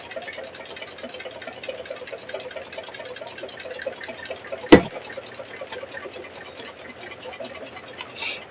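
An embroidery machine stitches out keychains in the hoop, a fast, even, repetitive needle patter running steadily throughout, broken by one sharp click midway.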